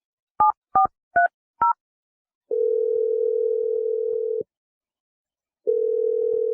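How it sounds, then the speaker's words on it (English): Telephone dialing a number: four short touch-tone beeps in quick succession, then a long steady dial-type tone, a pause, and the tone resuming, clear and close with no voices. "I'm dialing number right now."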